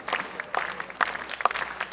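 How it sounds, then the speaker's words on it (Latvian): Audience applause for dancers at a large Latvian folk dance concert, a brief, moderately quiet patter of clapping from a crowd. "Aplausi viņiem!"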